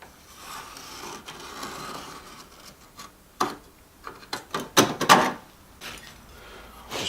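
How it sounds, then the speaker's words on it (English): Metal repair panel being trimmed to the shape of a rusty car door for a rust repair, heard as a run of sharp, close snips and clacks clustered in bursts over quiet background, with no talking. "So I've just got to trim it to the shape of the door there"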